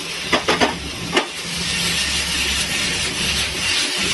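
Onions frying in a pan with salt for a galouti kebab, a steady broadband sizzle running throughout with a few soft stirring clicks near the start.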